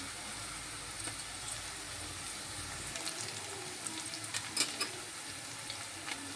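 Onions sizzle quietly in a pan while egg curry is being made, a faint, steady hiss of frying with soft crackles that continues throughout.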